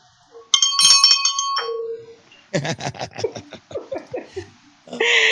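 A bell dings twice at the start, bright and close with a ringing tail, followed by a long stretch of lively speech and laughter.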